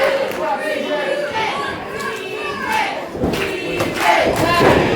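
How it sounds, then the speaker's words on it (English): A wrestling crowd at ringside during a live independent show chants in loud, rhythmic unison, a dense roar of many voices close by that swells toward the end. "TJ chant here from the crowd at ringside."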